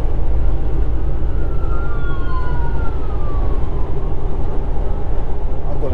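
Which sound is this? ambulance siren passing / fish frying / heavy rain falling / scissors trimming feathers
ambulance siren passing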